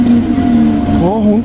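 A two-stroke engine in an old Showa-era Suzuki Jimny SJ30 idles with a steady, close, loud burbling drone, and its pitch lifts briefly near the end.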